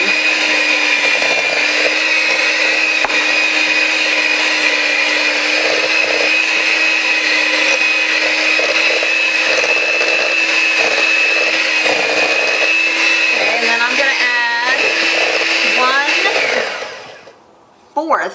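Electric mixer blending sugar cookie dough, a loud steady motor whine running continuously, then shifting pitch and winding down to a stop near the end.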